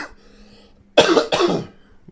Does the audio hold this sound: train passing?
no